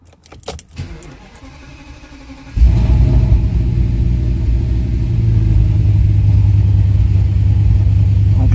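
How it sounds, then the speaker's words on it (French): Cold start of an Audi S8 with an engine warning light on: a brief starter crank and then the engine catches loudly, settling into a strong, steady, rumbling idle close by. "Là, on démarre, elle est froide."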